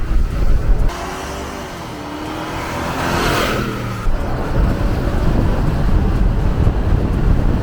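A Chevrolet Suburban, a 2,600 kg full-size SUV in sports mode, accelerates hard from 0 to 60 mph, engine roar rising steadily inside the cabin with wind and road noise building, no talking.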